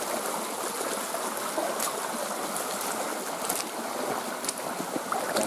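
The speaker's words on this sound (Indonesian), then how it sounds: "Dan ini airnya juga sangat jernih dan bisa diminum langsung ya, Kak Jek?" Steady, close rush of clear stream water below Curug Pangeleseran waterfall, a continuous broadband wash without pauses or speech.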